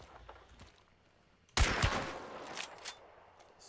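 Gunfire in a first-person shooter video game: after a quiet stretch, a sudden burst of several rapid shots breaks in, followed by sharp crackling reports and a decaying tail, moderately loud and close.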